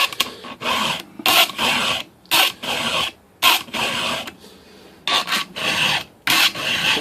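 A hand file rasps across chainsaw chain teeth during sharpening, the saw clamped in a vice on a cheap desk; about ten close, loud strokes come in rhythmic bursts with short pauses between.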